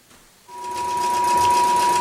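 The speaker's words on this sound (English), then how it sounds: "I'll pull my bobbin and then sew my basting line." Sewing machine starting up and running steadily while sewing a long basting line on a quilt, a close, even whirring buzz with a faint constant tone.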